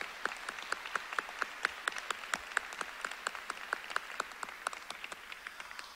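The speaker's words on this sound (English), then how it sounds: "Can we give them a round of applause this morning?" A commencement ceremony audience claps in a distant, faint, sparse patter of individual claps, steady throughout in a large hall.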